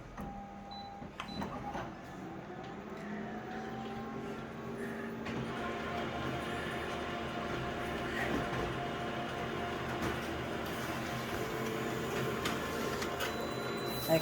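A photocopier runs an enlarged copy with a steady mechanical whir and hum that holds at a moderate, even level throughout, with faint rattles and soft clicks layered in.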